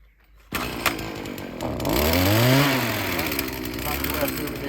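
A chainsaw roars into life and runs loudly while cutting through tough bushes outdoors, its pitch rising and falling as the engine revs, with voices talking over it.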